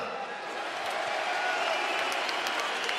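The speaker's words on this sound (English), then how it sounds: "let's give a round of applause for Islam" An arena crowd at UFC 284 applauds lightweight champion Islam Makhachev, a dense, steady roar of clapping and cheering that stays loud and unbroken throughout.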